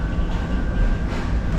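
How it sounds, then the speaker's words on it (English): An old tram rolls through Belgrade, Serbia, heard from inside as a loud, continuous rumble of wheels on rails with a faint steady whine above it. "These old trams are great."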